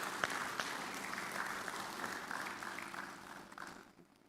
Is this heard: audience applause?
yes